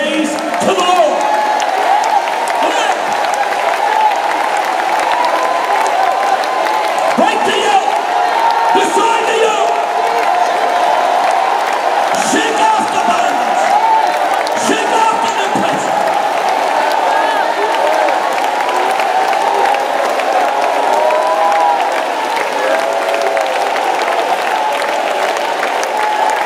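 A Pentecostal congregation claps and cheers during a dance praise, steady loud crowd noise throughout with shouts and voices mixed in.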